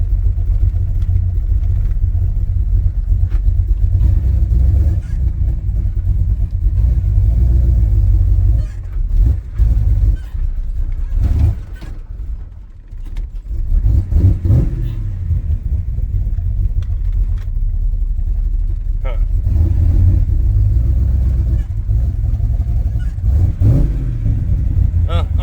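A car engine rumbles steadily at close range while pulling into a garage to park, with a low droning idle and brief revs throughout and people talking over it.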